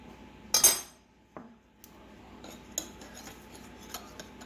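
A knife trims the pastry edges of a rustic lamb neck pie, giving a sharp scrape and clink at the start, then a short tap and a few soft scrapes and light knocks against the dish.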